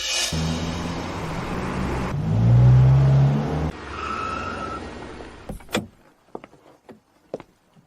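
Many cars arrive in a country village, engines droning loudly and swelling to a heavy pass, then fading out before a few sharp clicks and thuds, like doors and footsteps, close by.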